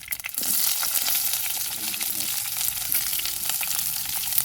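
Mustard seeds and onion frying in hot oil for a prawn roast, a dense steady sizzle with crackling pops that carries on without a break and stays close and fairly loud the whole time.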